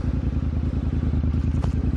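Royal Enfield Interceptor 650 with its 648cc air-cooled parallel twin and 270-degree crank, exhaust burbling in a steady, continuous low rumble at close range, with no one talking.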